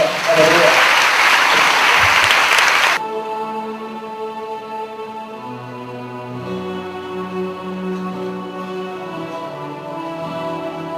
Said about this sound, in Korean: 박수로 하나님께 올리겠습니다